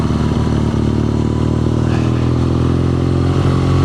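BMW R nineT Scrambler motorcycle riding through city traffic, a loud, close, steady engine drone with a low rumble and a slight rise in revs, with no talk.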